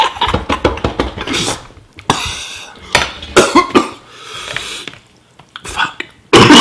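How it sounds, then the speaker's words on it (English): Bursts of coughing from someone eating very spicy ramen, several harsh close coughs and throat sounds in irregular fits, with some breathy vocal noise between them. "Don't cough when you eat spicy food."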